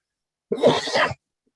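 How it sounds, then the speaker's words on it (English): A single short, muffled cough or throat-clearing burst, close by, with silence before and after. "I'm so sorry for my cough."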